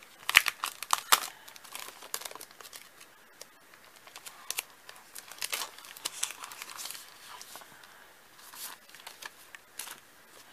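Crinkly craft mail packaging is opened by hand, with sharp crackles and rustles of plastic and paper in irregular bursts, close and fairly quiet, and nobody speaks.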